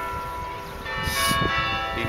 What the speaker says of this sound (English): You can hear the bells in the background.